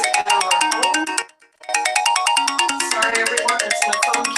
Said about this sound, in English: Sorry, everyone, it's my phone.